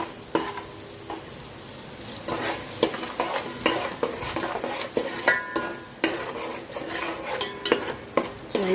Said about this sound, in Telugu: ఇందులో మసాలాలు వేసి ఇలా ఫ్రై చేస్తున్నానండి